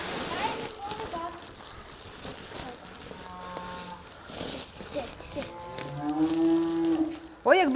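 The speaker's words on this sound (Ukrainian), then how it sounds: "корови, що ревуть" Cows moo repeatedly on pasture with fattening bulls, long drawn-out calls building louder toward the end, with people talking nearby and some splashing water.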